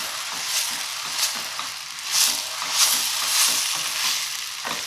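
Beef stew ingredients stirred in a pot over heat, a constant sizzle with rhythmic scraping strokes of the spoon repeating every second or so, close and moderately loud.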